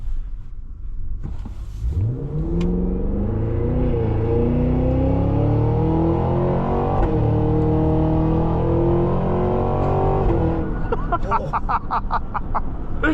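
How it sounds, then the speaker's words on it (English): A 2026 Cadillac Escalade-V revs its engine with a loud, deep exhaust roar that climbs steadily under acceleration, then lifts off into a rapid run of crackling exhaust burbles. Faint voices are heard in the cabin. "Oh, and the burbles are nasty."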